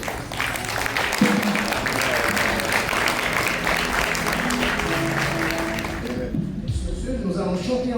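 Congregation standing and clapping at a church 90th birthday ceremony, a steady dense applause with voices and singing mixed in, thinning near the end.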